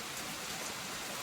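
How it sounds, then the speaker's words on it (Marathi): Steady rain pours at 6:30 in the evening during winter near Shirdi, a dense continuous hiss of drops on surfaces with no talk. "6:30 वाजले आणि लिटरली पाऊस चालू झाला आहे"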